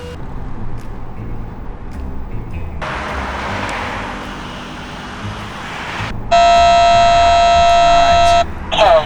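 Escort radar detector in a Porsche Cayenne sounding a K-band alert: a loud, steady electronic tone with bright stacked harmonics lasting about two seconds, over road and cabin noise, with a separate broadband burst earlier.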